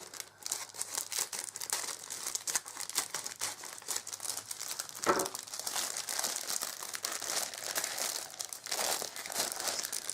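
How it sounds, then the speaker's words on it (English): Plastic packaging around two crochet books crinkles and crackles steadily as it is torn open, a close, continuous rustling that lasts the whole stretch with no talking. "I'm going to undo them both at the same time so the crinkling is over with quickly."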